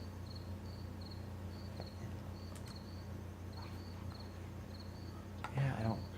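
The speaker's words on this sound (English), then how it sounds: "Oh, there's a little cricket." Crickets chirp in the night scene of the video game Crimes & Punishments, with short repeated trills running steadily through a low ambient hum, and a brief burst of voice near the end.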